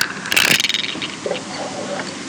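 A sewing machine stitches a strapped cuff opening on a garment in a quick burst of rapid mechanical clatter that fades within a second, followed by quiet low rumbling and faint handling sounds.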